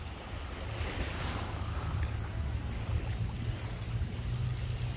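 Sea waves wash against the shore of a Greek seaside town in a continuous rumbling surge, with wind buffeting the microphone and no voices.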